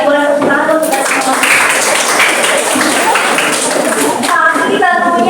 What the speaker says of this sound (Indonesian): Boleh tepuk tangan dong kita semua.